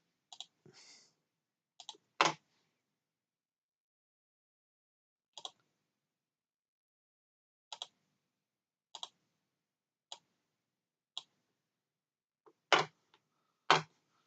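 Sharp, isolated clicks from a computer mouse, about a dozen spaced irregularly across a quiet background, several in quick pairs, close and fairly crisp.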